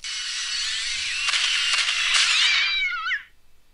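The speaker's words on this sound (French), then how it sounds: "C'est les chats qui foutent le bordel." Cat yowl from the video game Postal 2, a loud sustained screech that wavers in pitch for about three seconds before breaking off into a short warbling tail and fading out.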